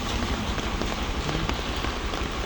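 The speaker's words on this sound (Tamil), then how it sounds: "தொடர்ச்சியாக மழை பெய்து கொண்டு இருக்குது பாருங்க." Heavy summer rain pouring without letup at the Manthikai junction in Point Pedro, after days of continuous downpour: a dense, even hiss of drops pattering on surfaces, loud and close with no break.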